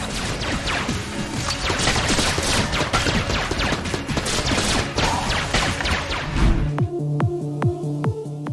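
Rapid, sustained gunfire and explosive crashes fill an indie shooter video game, loud and dense, before switching to a tonal, rhythmic game music passage near the end.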